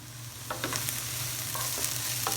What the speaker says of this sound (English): You want the vegetables to get tender, and so we'll just let them continue to cook.